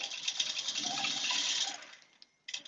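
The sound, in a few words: sewing machine stitching while quilting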